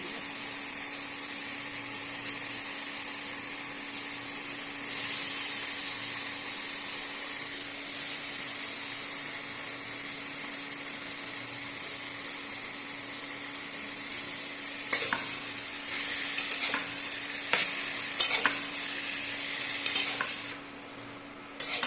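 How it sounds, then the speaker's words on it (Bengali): Soybean chunks stir-fry in a spice masala with a continuous, fairly loud sizzle, while scraping strokes and clinks from stirring grow busier in the last several seconds; no talking. "সোয়াবিনটা দিয়ে একটু কষা হয়েছে"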